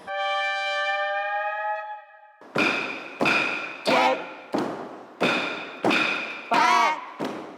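A sustained chanting tone gives way to a series of heavy rhythmic thuds, about eight stomps of Khon dancers' feet on a wooden floor, each ringing briefly with voices.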